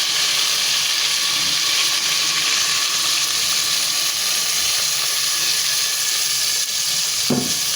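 Marinated chicken feet frying in hot oil for adobo: a loud, steady, close sizzle and hiss throughout, with a small clatter near the end and no speech.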